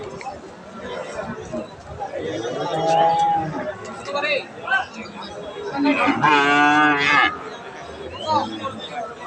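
Cattle moo loudly nearby at a livestock market in Dinajpur, several long lowing calls over a busy crowd of people chattering in the background.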